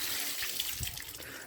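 Hot spring water at Kanniya, Sri Lanka, runs and splashes steadily in a broad, hissing wash, close by, with no voices.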